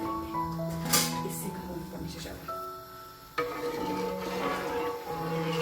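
Mixing chicken biryani rice ingredients with oil in a pot, soft scraping and stirring with occasional light clinks of the spoon, close-up beneath background music with a voice speaking.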